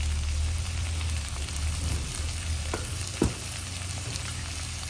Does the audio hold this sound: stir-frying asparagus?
yes